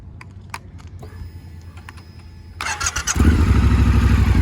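A Triumph Scrambler XC motorcycle engine cranks and fires up, settling into a loud, steady idle after a few seconds of quiet mechanical clicks.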